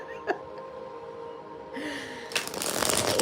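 Cards are riffled and bridged in a brisk burst of fluttering clicks, with a quick breathy gasp and faint voices nearby.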